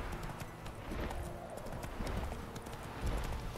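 Horse hooves gallop steadily in The Witcher 3, a continuous rapid clip-clop rhythm at moderate loudness, close by, with no talk over it.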